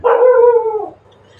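A single dog gives one loud, drawn-out bark that trails into a short howl, close and alone, fading into quiet.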